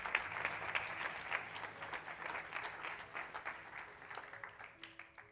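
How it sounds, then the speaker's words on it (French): Seminar audience applauding themselves, a steady wash of many hands clapping at moderate volume throughout, with no voices over it. "applaudissez-vous parce que je sais que c'est vraiment très compliqué"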